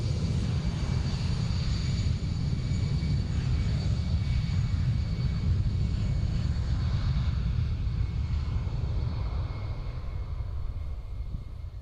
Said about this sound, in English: And there goes the EasyJet to Glasgow.